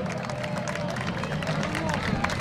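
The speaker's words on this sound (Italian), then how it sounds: "Un applauso doppio per la banda musicale per il Borgo Madonnina che sta passando davanti a noi" Street crowd clapping as a marching band passes in a town parade of local districts, continuous dense applause mixed with crowd babble and a low brassy background throughout.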